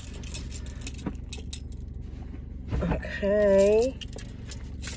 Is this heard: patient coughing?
no